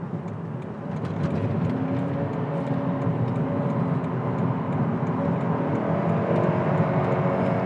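A Toyota Camry 2.4 Hybrid is on the move, heard from inside as a steady, muffled cabin drone of road and engine noise that swells slightly and holds even, with no voices.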